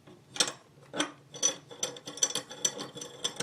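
Small plastic and metal clicks and taps as a spur gear is fitted onto a shim inside an airsoft AEG gearbox, a run of about eight close, irregular knocks and rattles.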